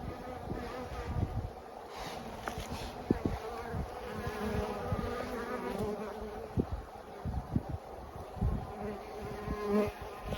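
Honey bees buzz steadily around the hive entrance, returning with pollen loads, a dense close swarm hum with individual bees zipping past.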